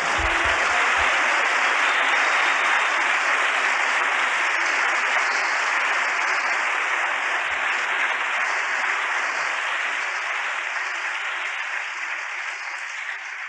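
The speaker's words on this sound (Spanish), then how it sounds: "Démosle un aplauso al Señor." A church congregation applauds together in a steady, dense wash of clapping that holds at a constant level and fades only slightly toward the end, with no talking over it.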